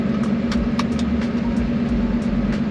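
Engine of a Superformance GT40 hums steadily inside the car on a test drive, a loud, constant low drone with faint ticks and clicks over it and no voices.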